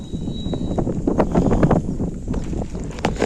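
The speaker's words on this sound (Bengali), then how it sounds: "ঠান্ডা ঠান্ডা বাতাসটা কিন্তু দারুণ দিচ্ছে" Cool wind blows across an open outdoor spot under stormy, rainy-looking weather, buffeting the microphone with loud, uneven rumbling gusts.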